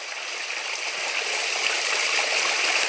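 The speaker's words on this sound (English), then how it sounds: "where I was talking about this being the source of the River Axe off the Mendip Hills" Near its source off the Mendip Hills, the River Axe runs as a small stream, giving a loud, even rush of water close by that holds steady throughout with no talking.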